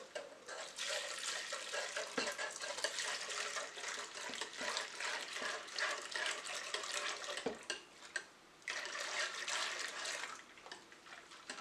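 Flan custard mixture pours into a pot as a continuous liquid splash and trickle, fairly close and steady, with brief dips in the flow and a short pause near the end.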